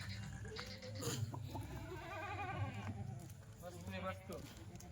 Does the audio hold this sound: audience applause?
no